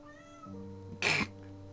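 A pet cat gives a single short, loud meow close by, rising over a steady background of game music and ambience.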